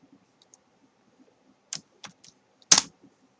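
Computer keyboard keys being tapped while entering a formula in Excel: a few sparse, quiet clicks, ending with one firmer keystroke, close by and alone.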